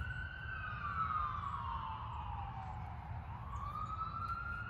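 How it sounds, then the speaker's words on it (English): A police siren wails steadily in the distance, its pitch sweeping slowly down and back up over a low traffic rumble. "as you can hear the sirens"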